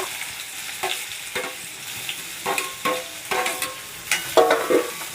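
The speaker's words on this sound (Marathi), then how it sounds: "आता कांदे घालून घेऊया" Two finely chopped onions tipped into hot oil in a pan for a dry chicken dish: repeated sizzling bursts as the onions are stirred and turned, with scraping strokes every half second or so, close and clear.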